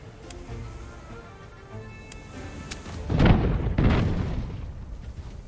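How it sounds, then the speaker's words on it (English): Pirate ship mortars firing in Tortuga: A Pirate's Tale, two heavy muffled booms rolling out over a low ambient game background, moderately loud and slightly distant. "And some mortars."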